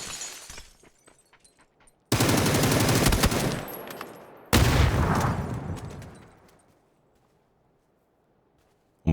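Gunfire in PUBG: a few scattered shots, then two long, loud, close bursts of sustained automatic fire, each decaying gradually before the clip falls silent.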